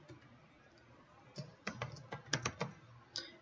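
Password typed on a computer keyboard during a server lab login, sparse quiet clicks that start slowly and quicken into a short burst of keystrokes, with a final tap after a brief pause.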